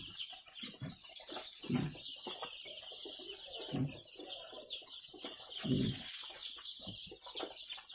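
Jawa Super (joper) chickens cluck and peep in a warm brooding pen on a farm, with a dense high chirping chorus and repeated low clucks rising and falling, close by and without talk.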